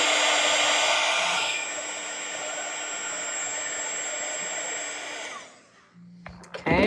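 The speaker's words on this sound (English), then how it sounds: "or blow dry it with a heat gun or a blow dryer if you" A blow dryer or heat gun drying a watercolor card roars in a steady, close, loud blast of air, softening partway through before cutting off near the end.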